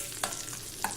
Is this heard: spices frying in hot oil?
yes